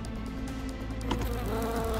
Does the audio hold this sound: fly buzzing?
yes